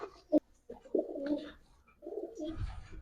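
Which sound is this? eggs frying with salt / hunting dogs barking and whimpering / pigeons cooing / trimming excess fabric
pigeons cooing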